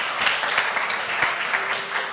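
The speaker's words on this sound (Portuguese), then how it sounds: "Uau, uma salva de palmas para vocês." A church congregation claps together in a brief burst of steady, even applause filling the room.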